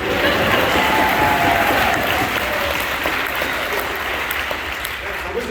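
A large audience applauds loudly and steadily after a film premiere screening at the Music Box Theatre in Chicago, the clapping gradually easing off, with some crowd voices mixed in.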